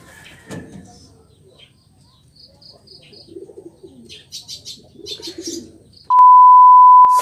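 Racing pigeons cooing softly in a loft, low murmuring coos repeating under faint chirps and rustling, ending in a sudden loud steady electronic beep.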